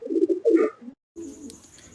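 A female pigeon at a Giribuz pigeon loft near Basdroni cooing in two quick throaty bursts close to the microphone, then a short pause and a softer murmur of coos.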